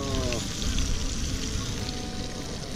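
Catfish pieces fry in hot oil, a steady close sizzle and crackle running throughout with no pauses.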